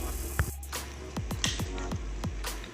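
Sugar goes into a mixed fruit wine mixture, heard as a series of soft wet squishes and drips, about eight short pours and plops spaced unevenly across a quiet background.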